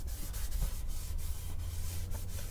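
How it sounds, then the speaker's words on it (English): A cloth or pad rubs back and forth over the applied finish on a handmade guitar body, making a close, steady swishing with regular strokes. "And again, we're polishing."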